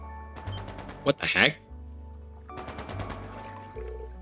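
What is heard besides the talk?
gunfire in the video game Trails into Reverie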